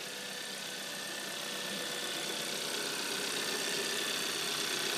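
Turbocharged car engine running with a loud air intake, a steady, dense roar and hiss that holds evenly and swells slightly toward the end, close by with no voices.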